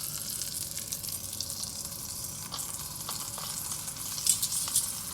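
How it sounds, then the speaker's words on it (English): Duck breast sears skin side down in a pan over medium heat, giving a steady, dense sizzle and crackle with a few sharper pops near the end. "Now the sizzling is starting to get a little bit more aggressive."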